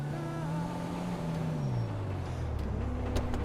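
A truck in the GTA Online video game, its engine droning in a low rumble that drops in pitch as it slows, with faint air-brake hisses near the end, continuous and moderately loud.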